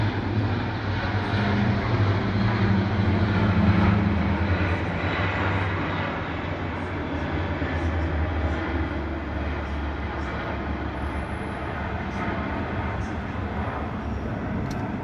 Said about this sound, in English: Look at this big aircraft.